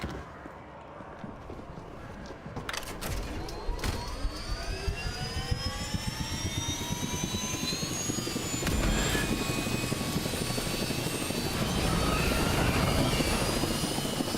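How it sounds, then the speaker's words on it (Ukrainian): A helicopter flies in the zombie video game Dead Island 2, a steady, loud rotor and engine drone that holds throughout and slowly rises in pitch, with a few brief thuds early on. "Шатає вертольот."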